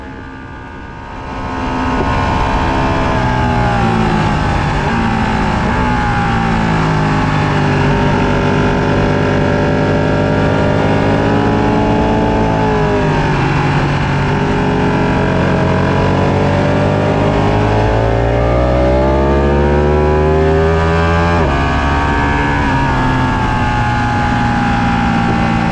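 A motorcycle rides laps at Palmer Motorsports Park, its engine a loud, close, continuous drone with pitch swinging up and down as it accelerates, shifts and slows through the corners.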